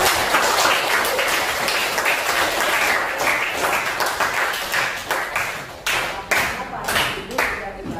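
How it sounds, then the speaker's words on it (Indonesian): A classroom of students applauding, dense loud clapping throughout that thins into more separate claps toward the end, with voices mixed in. "Ya, tepuk tangan."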